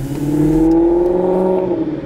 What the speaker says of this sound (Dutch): Volgens mij ligt daar een V8 in, in zo'n uh, Maserati.